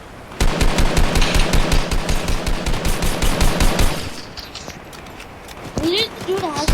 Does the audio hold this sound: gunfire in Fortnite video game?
yes